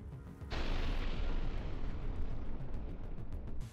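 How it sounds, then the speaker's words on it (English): Powerful explosions in a war zone near the besieged town of Mirnohrad: a sudden loud boom hits after a brief quiet, followed by a long rumbling roar with crackling bursts that slowly settles, no voices. "Powerful explosions occurred."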